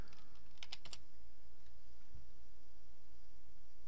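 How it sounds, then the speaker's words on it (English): Fingers tap a computer keyboard in a quick burst of a few close, crisp clicks near the start, then a couple of isolated keystrokes against a quiet room hum. "Then you can type in software"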